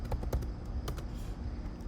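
Rapid typing on a computer keyboard at close range, with irregular clusters of key clicks and a few sharper strikes continuing throughout.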